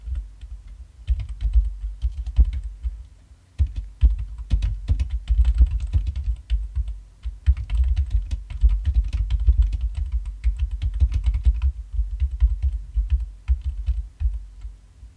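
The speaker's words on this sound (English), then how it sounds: "I'm gonna need to retype the text off the screen." Steady, close typing on a computer keyboard, with quick clattering keystrokes and brief pauses as text is entered.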